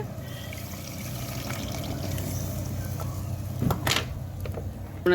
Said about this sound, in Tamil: தண்ணியை அப்படியே ஊற்றிக்கலாம்